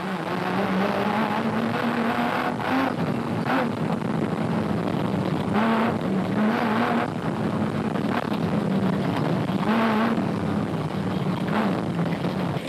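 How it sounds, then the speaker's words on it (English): Race cars with 4-litre Japanese engines, including a Nissan, roar past at a 2006 Toyota Dealer 400 motor race, one loud engine note rising and falling through gear changes amid continuous wind and track noise. "Those 4-litre Japanese engines were certainly firing on all cylinders, as was the Nissan of Mark Corbett and Jean"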